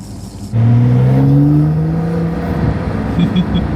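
A Porsche 911 with its rear-mounted engine revs up loudly and close while driving, then settles into a steady hum, with faint speech near the end.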